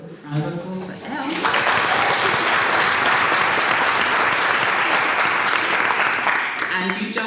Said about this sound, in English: A little round of applause for Elle.